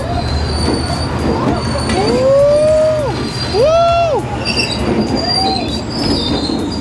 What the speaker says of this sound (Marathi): ओ ट्रेन आली.